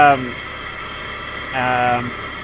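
A car engine idles steadily with an exhaust leak, giving a low, even drone, while a voice speaks briefly over it twice.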